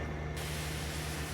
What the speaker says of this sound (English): we can grab this power washer, and we can